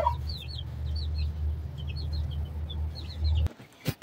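Hens cluck in repeated short bursts on a farm, steady and fairly close over a constant low hum that cuts out near the end, followed by a brief knock.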